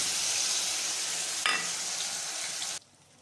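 Spice mix tipped into frying onions sets off a loud, steady sizzle that flares briefly as the spices hit the hot oil, then cuts off abruptly to near silence.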